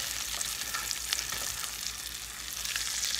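Food sizzles and crackles steadily in a skillet over medium heat on a stove, a dense close frying hiss throughout with light stirring scrapes.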